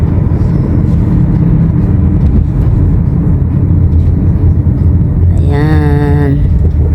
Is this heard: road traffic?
yes